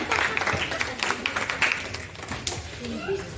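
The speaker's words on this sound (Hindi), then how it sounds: "तालियां बजती रहनी चाहिए।" Audience clapping at an Inner Wheel Club installation ceremony held in a hotel hall, a dense ragged patter of hands at moderate loudness, steady for a few seconds, with people talking over it.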